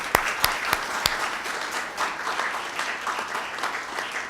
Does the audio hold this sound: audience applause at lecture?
yes